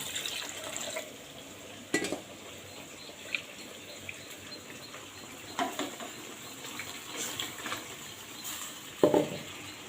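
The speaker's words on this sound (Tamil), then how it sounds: "புளி தண்ணியை வந்து முடிஞ்ச அளவுக்கு வடிகட்டி எடுத்துக்கோங்க." Soft trickling and dripping of tamarind water through a strainer, with occasional clinks and light taps of utensils, quiet and close.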